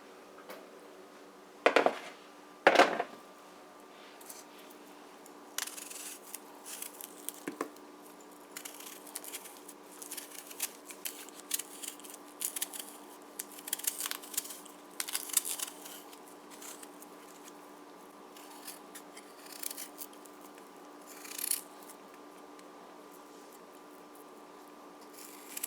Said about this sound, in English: we're gonna work on our eddoes first. That's gonna take the longest to peel and cut up